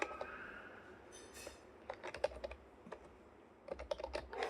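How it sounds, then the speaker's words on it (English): Typing on a new computer keyboard, heard as quick irregular clusters of soft key clicks with short pauses between bursts, close but quiet, with no talking. "I'm trying a new keyboard"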